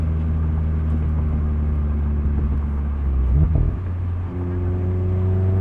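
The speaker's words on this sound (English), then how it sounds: "Still sounds like a Miata too." Engine of a modified 2019 Mazda MX-5 Miata ND2 30th Anniversary while driving, a steady close drone with a brief swell in revs before settling back to an even cruise.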